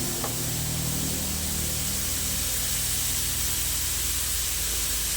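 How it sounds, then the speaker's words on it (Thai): Minced pork stir-frying in a pan for an asparagus dish, a steady dense sizzle and hiss that carries on evenly from start to finish with no talk over it. "นี่นะคะเราก็ผัดหมูให้สุกก่อน"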